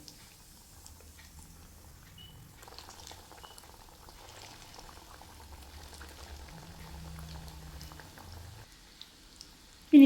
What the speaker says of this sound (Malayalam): ചൂടായി വന്നതിന് ശേഷം ലോ ടു മീഡിയം ഫ്ലെയിമിൽ വെച്ചിട്ട് നമുക്ക് സ്നാക്ക് ഫ്രൈ ചെയ്തെടുക്കാം